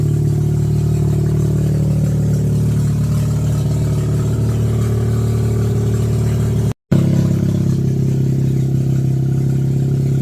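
A Mazda RX8 rotary replacement engine idles steadily while warming up, a continuous low droning hum with a brief dropout partway through, loud and close with no talking.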